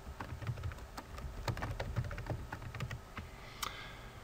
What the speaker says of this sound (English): So I'm going to type some text.